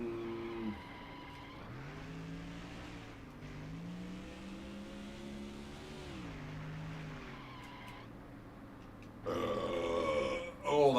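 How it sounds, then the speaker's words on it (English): A loud, drawn-out burp with a wavering, tonal pitch that rises and falls, followed near the end by a burst of louder noise as a voice comes in. "Oh, that was a burp right there."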